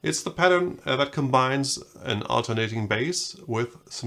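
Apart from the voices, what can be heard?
No distinct noise like a dog, phone or traffic.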